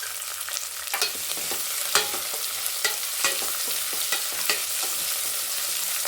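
Onion, dried red chilies and curry leaves sautéing in oil for a little millet vegetable upma: continuous sizzling with a series of sharp spatula scrapes and taps against the pan at irregular intervals, close and clear, no talk.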